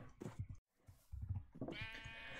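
Sheep in a Minecraft wool farm bleat several times in quick succession, close and fairly quiet, with overlapping game-style bleats and no talk.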